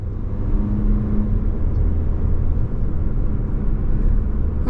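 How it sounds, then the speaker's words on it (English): Inside a 2024 Toyota Highlander XSE AWD driving along the road, a steady low cabin rumble of road and engine noise holds evenly throughout, with no voices. "we're heading down the road in this 24 Highlander XSE all-wheel drive"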